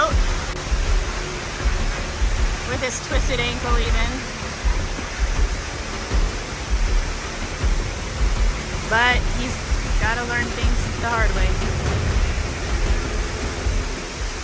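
Steady broadband rush of Kiki Waterfall in Panama, the largest falls in the country, a constant roar of falling water close by, continuing under a voice talking throughout.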